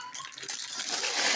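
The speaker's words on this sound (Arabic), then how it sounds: "المية بتغلي اهي" Salted water boiling in a pot for pasta, with a bubbling, hissing wash that swells louder over a brief stretch.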